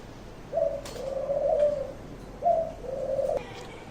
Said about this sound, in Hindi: इनके साथ ही जनाब वो फाख्ता है ना, फाख्ता टाइप कबूतर हैं।